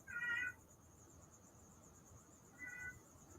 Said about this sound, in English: I think that's Girl Kitty. No, it's probably Boy